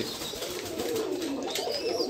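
Pigeons coo on a commercial pigeon farm in Bangladesh, soft low repeated calls from several birds nearby over a steady background hum, with no talking.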